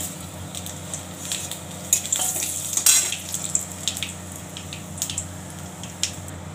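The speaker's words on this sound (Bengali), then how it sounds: "ফুলকপি আলুটা ভেজে নেব। ফোড়নটা দিয়ে দিচ্ছি।" Cauliflower and potato fry in hot oil with tempering spices, giving a constant sizzle with bursts of louder spitting and a few scrapes of stirring, close and fairly loud, with no talk.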